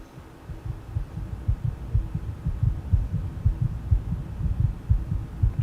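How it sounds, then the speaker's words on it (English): A steady, low heartbeat thuds throughout in the Vault 101 opening of the video game Fallout 3, with regular pulses over a soft underlying hum and no talking. "Heartbeat ആണ്."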